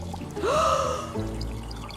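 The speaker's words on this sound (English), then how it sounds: "I am adding more water." Water pours from a container into a half-full soup pot, a short rising gurgling splash lasting under a second, close and alone, followed by a low thud and quiet background.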